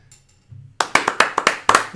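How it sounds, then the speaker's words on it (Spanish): After a brief quiet moment with a low murmur, a single person claps hands about ten times in a steady rhythm, sharp and close. "Un aplauso."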